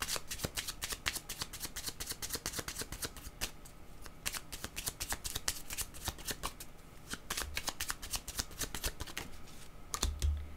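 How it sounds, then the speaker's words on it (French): Tarot cards are shuffled by hand, giving a continuous close crackle of rapid riffles and slaps that runs steadily with brief pauses between bursts. "je vais demander une autre carte pour cet homme"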